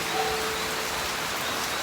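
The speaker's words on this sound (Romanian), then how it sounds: "iar acum plouă." Rain falls after an intensely hot day, a dense, steady hiss of drops on surfaces close by, unbroken and fairly loud with no voices over it.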